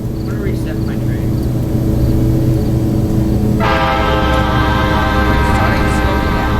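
Amtrak train number 200 in a rail video game, a loud steady horn blast sounding over continuous rumbling rolling noise, with a voice talking early on.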